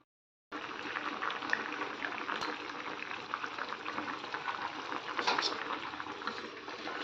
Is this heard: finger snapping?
no